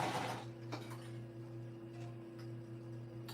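A sewing machine base stitches an eighth of an inch from the edge around a shoulder bag, giving a steady, droning motor whir with a faint tick at moments and no talking.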